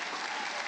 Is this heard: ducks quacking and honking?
no